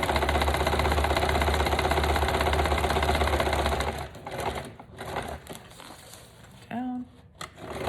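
A sewing machine zigzag-stitching the edge of a handmade botanical journal runs steadily and loud for about four seconds, then stops, leaving quieter handling noises and brief clicks.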